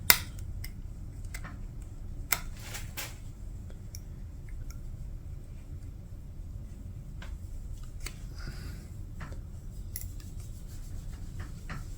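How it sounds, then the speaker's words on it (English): A razor blade scores around the nut of an Epiphone acoustic guitar to avoid chipping the finish. Faint scraping sounds and scattered light ticks rise over a quiet room hiss. "I always score around with a razor to prevent chipping any finish out"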